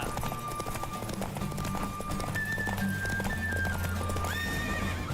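Roach the horse galloping in a race in The Witcher 3, rapid continuous hoofbeats with whinnies over busy game music and ambience, loud and close throughout.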